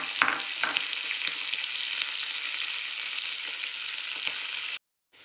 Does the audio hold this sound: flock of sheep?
no